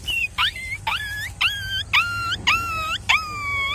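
A person imitates a dog with a run of seven rising and falling yelping calls, each short and evenly spaced, close and fairly loud over low background hum.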